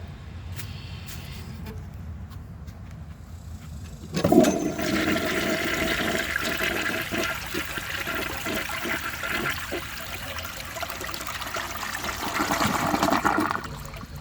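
A 1937 Standard Madbrook toilet flushes after a short click of the handle, a loud rushing gush of water that swirls steadily for about nine seconds before draining away.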